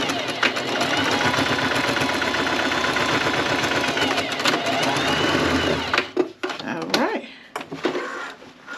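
Sewing machine running steadily for about six seconds as it stitches a waistband seam on a garment, a dense continuous mechanical whir close up, stopping abruptly, followed by brief handling noises.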